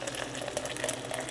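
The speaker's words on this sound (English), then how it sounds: "I'm just gonna pour in my hot water." Hot water is poured into a small tumbler: a soft, continuous splashing trickle, fairly quiet and close, with no talking.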